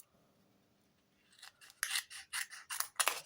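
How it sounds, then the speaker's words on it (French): Scissors snipping paper for a small art collage page in a winter notebook, a quiet start then a rhythmic series of about eight close, crisp cuts. "Alors je vais le couper"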